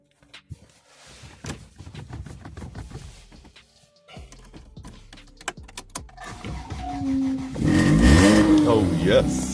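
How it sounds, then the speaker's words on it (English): A Toyota Celica 2.0 ST, parked for two years with hardly any fuel, cranks with sputtering clicks, then catches and runs with a rising, rough engine roar near the end, close by, with talk over the early part. "this car has been standing for 2 years here, and look, 1 click"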